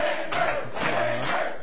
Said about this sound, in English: Listen to this crowd behind Chambers, trying to get him back up to his feet